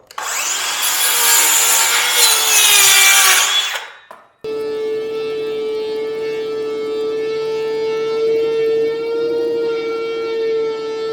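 A DeWalt DW735 thickness planer feeds wood with a loud, harsh cutting roar for about four seconds. After a brief drop, the motor keeps running with a steady humming whine.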